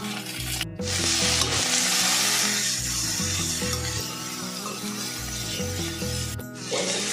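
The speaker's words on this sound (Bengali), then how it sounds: "নুন হলুদটা আমি ভালো করে মিশিয়ে দিলাম।" Taro stolons being stirred with salt and turmeric in an oily frying pan, a steady scraping, rubbing stir over soft sizzling, loud and close, with brief pauses at the start and end.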